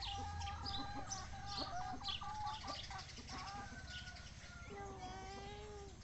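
Several chickens cluck at a village home, with close, repeated clucks and short calls continuing steadily and no talking.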